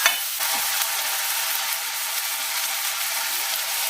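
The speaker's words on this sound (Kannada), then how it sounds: "ಈರುಳ್ಳಿ, ಟೊಮೊಟೊ ಮತ್ತೆ ಬಟಾಣಿ ಸ್ವಲ್ಪ ಎಣ್ಣೆ ಜೊತೆನಲ್ಲಿ ಫ್ರೈ ಆಗಬೇಕು." Onion, tomato and peas fry in a little oil for mushroom pulao, giving a steady, close, even sizzle that keeps up without a break, with a brief stir at the start and no talking.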